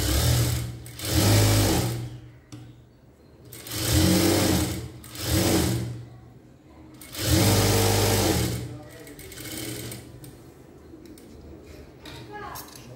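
A sewing machine runs a straight stitch over fabric lining in several short bursts of fast whirring, with quiet gaps between runs and a voice talking alongside.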